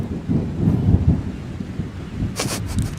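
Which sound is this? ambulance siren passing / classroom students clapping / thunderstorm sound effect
thunderstorm sound effect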